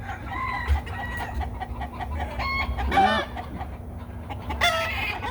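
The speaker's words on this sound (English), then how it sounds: "He's my silver-laced Wyandotte rooster that's supposed to be with those girls up there." A silver-laced Wyandotte rooster crows and clucks among chickens on a farm, several loud close calls rising over a steady barnyard background.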